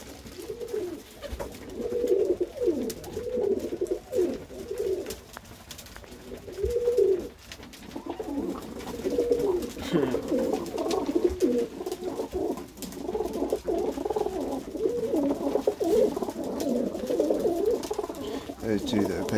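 Pigeons, including a breeding pair of ring-necked doves, coo repeatedly in soft, rolling phrases at close range, with steady calls running through the whole stretch and a person speaking now and then.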